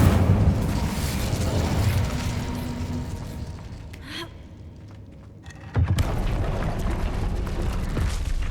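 A fire spell cast with a wand in a Hogwarts Legacy game, heard as a sudden whooshing burst that cuts through steady game ambience, with a sharp onset after a brief lull.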